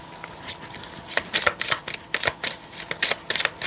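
A deck of tarot cards is shuffled and handled up close, giving a run of quick crisp riffles and flicks in uneven bursts, with no talking.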